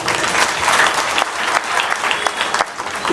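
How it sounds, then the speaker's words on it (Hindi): Loud, dense audience applause at a Bharatiya Liberal Party political rally, a steady wash of many hands clapping that fills the whole stretch without pause. "आपके लिए जोरदार तालियां"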